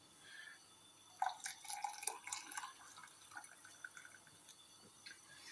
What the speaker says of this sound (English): we'll pour some hot water onto those